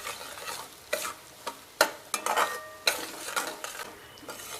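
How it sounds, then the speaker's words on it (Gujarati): Semolina is stirred into hot ghee in a pan for sheera, with a spoon scraping and knocking against the pan in irregular close strokes over a soft, quiet sizzle. "ઘી ગરમ થઈ ગયું છે હવે આપણે આની અંદર આ રવો એડ કરી દઈશું"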